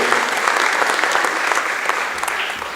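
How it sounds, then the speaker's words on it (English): A room full of people at an athletic awards dinner keeps clapping for the track team, a thick, sustained patter that tapers off gradually near the close. "give these guys a round of applause"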